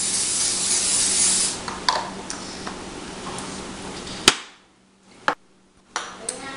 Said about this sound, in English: you want to spray it a little bit so that your cookies aren't sticking to the bottom